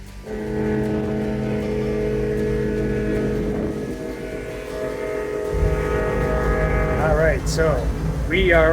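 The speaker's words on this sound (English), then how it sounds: "So we are on the Twasin ferry." On the Tsawwassen ferry crossing from Vancouver to Vancouver Island, a low, steady engine drone hums under wind buffeting the microphone, with people talking toward the end.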